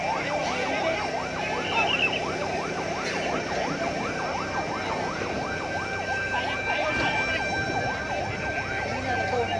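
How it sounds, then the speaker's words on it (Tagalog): A fire truck siren wails in rapid, repeating up-and-down sweeps at a market fire in Cogon, loud and close, continuous throughout over a dense background of crowd and traffic noise. "So duhane ka fire truck no ang ni sud aning dapita."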